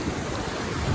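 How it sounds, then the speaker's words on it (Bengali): Gentle ocean surf washes onto the beach at Mandarmani, a steady, soft rush of low waves blended with wind buffeting the microphone, with no voices. "যদিও ঢেউগুলো খুব একটা তীব্র নয়।"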